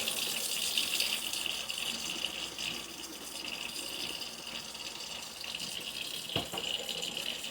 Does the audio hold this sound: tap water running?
yes